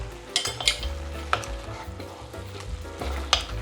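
Potato pieces are stirred into a Goan-style chicken stew in a sizzling pan. A spoon knocks and scrapes against the metal in several sharp, irregular strokes over a continuous close frying hiss.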